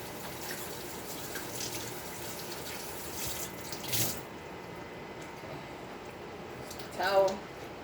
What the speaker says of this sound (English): Now I'm going to rinse my pan out.